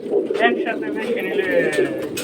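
Many caged silver pigeons coo close by in a dense, continuous murmur, with a few higher chirps rising above the throaty rumble.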